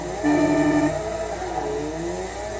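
A loud rotary-engine race car in the video game Forza revs and holds a high whine, pitch rising and falling as it accelerates, close and continuous with no talking.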